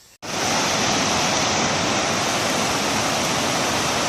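Rushing water of the 7 Bidadari waterfall in the Aceh mountains, a loud continuous roar of falling water that starts abruptly and holds steady, close and unbroken.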